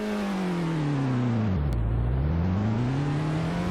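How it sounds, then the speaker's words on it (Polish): Virtual car engine in the Polish Car Driving game, a loud, steady drone that dips in pitch as the gear changes and then climbs again, heard alone. "Sam silnik też bardzo ciekawie brzmi."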